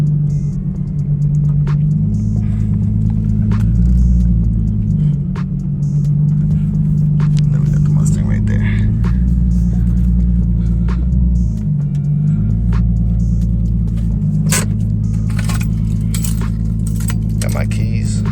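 A 2019 Mustang GT V8 warming up at idle with a steady low rumble, interrupted by jangling keys and small clicks close by.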